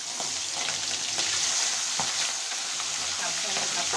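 Tengra fish frying in oil gives a dense, loud, unbroken sizzle with faint crackles and an occasional stirring tap, up close and without speech.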